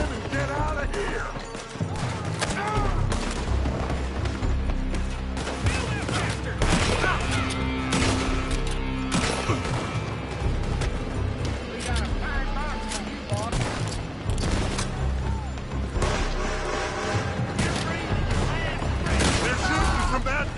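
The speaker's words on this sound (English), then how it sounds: "They're shooting from that building!" Gunfire rings out from a building in a PS4 video game, with dense, sustained volleys and crashing impacts layered over loud game music and shouted voices throughout.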